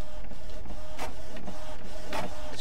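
A printer runs in the video game Midnight Library, a mechanical whirring and rattling with rhythmic feed pulses, loud and steady throughout the short stretch.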